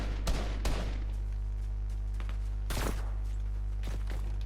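Several sharp gunshot bursts in the video game Fortnite, a couple of quick cracks early and louder volleys later, over a steady low hum.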